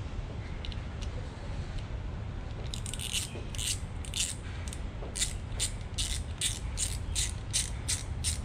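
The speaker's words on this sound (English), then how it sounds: "now we are loosening the four screws here" Screws being loosened on a Tesla Model 3 trunk latch, a rapid ratcheting clicks in short regular bursts through the second half, fairly close and moderately loud over a low steady background hum.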